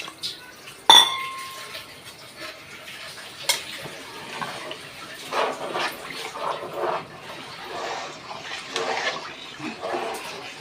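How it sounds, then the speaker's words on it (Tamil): Water is poured into rice in a home pressure cooker while cooking chicken biryani, a soft splashing, trickling pour with metal clinks of vessels and a sharp clank near the start. "பத்து கிளாஸ் தண்ணி ஊற்றிருக்கேன் கூட அரை கிளாஸ் ஊற்றுறேன்"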